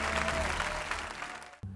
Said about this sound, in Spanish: Y el auditorio de pie para aplaudirte.